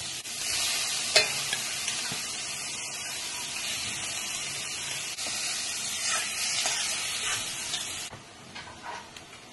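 Whole masoor lentils, soaked overnight and pressure-cooked, get stirred into a pan of fried masala paste, giving a steady soft sizzle and hiss with occasional scraping of the spoon, close and even.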